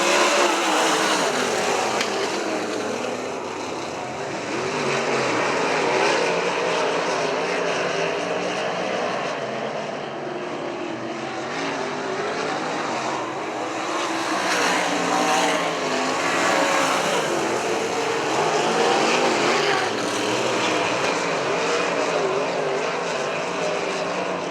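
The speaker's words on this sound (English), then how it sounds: "We're ready to go back to green flag racing." Race cars at Butler Motor Speedway roaring around the track during a B-main green flag race, loud sustained engine drone swelling and fading as cars pass, with no talk.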